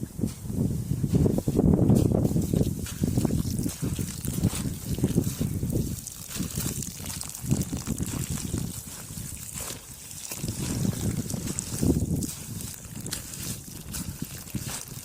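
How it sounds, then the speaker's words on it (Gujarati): Flowing water runs steadily, a close, continuous trickling and sloshing wash with low rumbling surges that rise and fall. "પાણી આવે છે"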